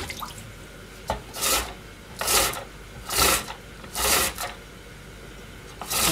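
A mandoline-style kitchen slicer cutting cabbage, heard as four or five separate rasping swipes at a steady rhythm, close and fairly loud, with short quiet gaps between strokes.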